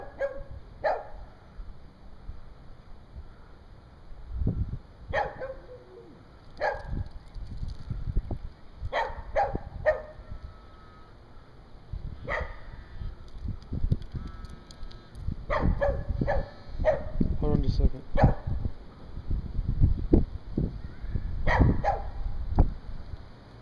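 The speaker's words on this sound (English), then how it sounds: "Dog on a rock, he's over there barking at us." A dog perched on a rock in a front yard barks repeatedly at a distance, single and doubled barks coming in irregular bursts over steady outdoor wind and rustle.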